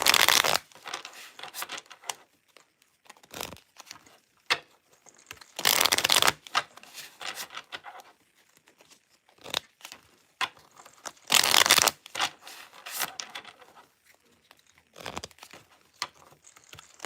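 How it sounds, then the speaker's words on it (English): A deck of tarot cards is shuffled hard in repeated riffling bursts, crisp papery flutters and snaps close to the listener with short pauses between rounds. "Let me just shuffle really well here."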